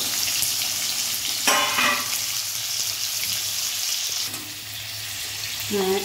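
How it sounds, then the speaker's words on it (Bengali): Potatoes frying in hot oil: a steady, close, hissing sizzle with occasional clinks of stirring, no voices. "এবার তেলটা গরম হয়েছে, আলু দিয়ে দিচ্ছি। আলুগুলো ভেজে দিচ্ছি।"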